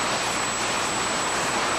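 A kerosene-fuelled jet race car engine warms up with a loud, constant turbine roar and a high steady whine, running alone without voices.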